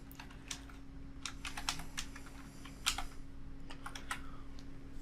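Keys tapped on a computer keyboard while a password is entered, a steady run of light clicks with a few louder strikes, close and alone over a low electrical hum.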